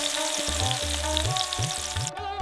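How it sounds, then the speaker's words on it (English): Buttermilk-dipped, flour-coated chicken sizzles steadily in a cast iron skillet, a close, dense crackle of frying oil with low clunks of stirring or shifting pieces. "it's a patient sizzle in a cast iron skillet"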